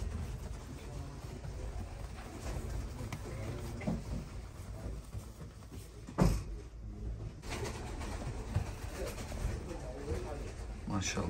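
Show pigeons in a loft coo softly in the background beneath a low steady hum, with a person talking over them.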